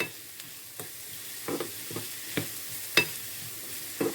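Onion frying with spices, coriander and garlic being stirred in a pan; a faint steady sizzle with light spoon scrapes and taps at irregular intervals, close and quiet, no speech.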